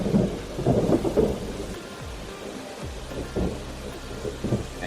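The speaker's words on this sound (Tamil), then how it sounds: "மழைங்கள பெய்தாப்பா, உள்ள வா." Rain falling with rumbling thunder during a storm, low booming rolls rising and fading over steady patter, loud and close, with no talk.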